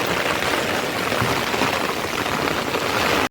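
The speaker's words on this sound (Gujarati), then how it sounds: "ધોધમાર વરસાદ ચાલુ થઈ ગયો" Heavy rain pouring down onto a surface, a loud dense patter without pause, cutting off abruptly at the end.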